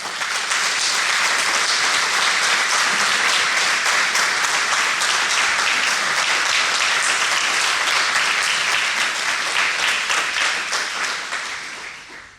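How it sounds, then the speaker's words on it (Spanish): A church congregation applauds in praise during a Spanish-language service, with steady, dense clapping from many people that holds for about twelve seconds before tapering off at the end. "¿Quiere darle un aplauso a Jesús?"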